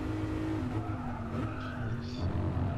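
Lexus RC-F tires skid and squeal as the car drifts through a corner on track, a steady high screech over the engine's continuous drone, loud and close throughout.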